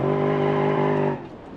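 An Azrios car accelerating in BeamNG, its engine holding a steady, loud droning tone that then cuts off and drops to a quieter idle.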